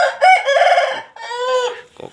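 An Aseel rooster crows loudly and close by, one long harmonic cock-a-doodle-doo in two drawn-out parts, ending with a short clucking note.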